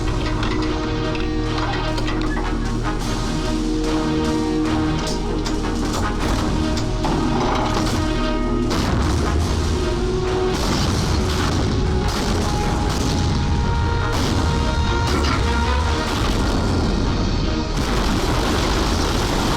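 Artillery fire in a war film battle scene: continuous heavy booms and crashing explosions pile up densely over nearly twenty seconds, loud and near, with rumbling aftershocks and no pauses.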